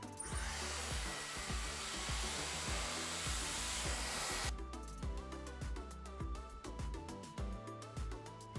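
A hair dryer blows steadily at close range while drying short hair before an updo, a loud continuous whoosh that shifts pitch about halfway through as the airflow setting or angle changes.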